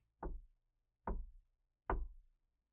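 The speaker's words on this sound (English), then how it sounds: "there's a knock at the door" Three firm, hollow knocks on a door land about a second apart, each one sharp and close, with near silence between them.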